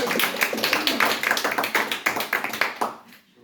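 An audience at a stand-up comedy show claps in a brief, fairly close burst of rapid applause that fades out after about three seconds.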